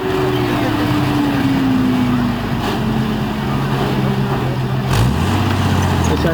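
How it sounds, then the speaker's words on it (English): A heavy petrol tank engine drones loudly and steadily during a neutral pivot turn, its pitch slowly dropping, with a clunk near the end; it sounds close and continuous. "We're just demonstrating neutral turn for you there, where we've got one track going forwards and one back."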